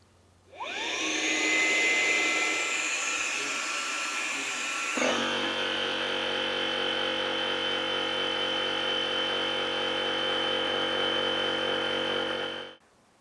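Electric pump inflating a FlowStop through a hose, a loud steady whine and whir that starts abruptly, shifts to a lower droning tone midway, then cuts off.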